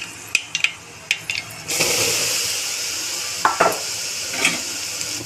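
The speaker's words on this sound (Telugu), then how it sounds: "పచ్చివాసన పోయేంత వరకు కలుపుకోవాలి" Spice powder is stirred into a simmering tomato pepper rasam, with a few sharp spoon clinks against the pot, then a steady sizzling bubble, and further scraping taps later on.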